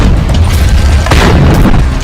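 Cheap rockets fired from the ground by Hamas fighters during the Israel–Hamas war, heard as a loud, rumbling boom with rough, sustained low roar and a sharper burst near the middle.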